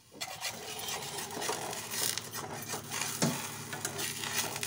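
Oil-brushed flatbread cooking in a pan, with a continuous soft sizzle and faint scraping rubs heard up close.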